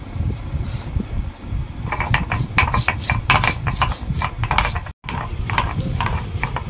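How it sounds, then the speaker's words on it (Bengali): Cumin seeds ground by hand on a grinding stone, a steady rhythmic rasping and rubbing of stone on stone that runs throughout, with one brief break near the end. "আগে জিরা বাটবো"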